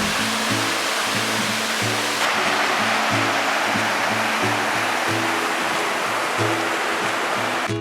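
Hermosa Falls in Barangay Pamucutan, Zamboanga City, pours in a loud, continuous roar of falling water, with faint low rhythmic tones running underneath.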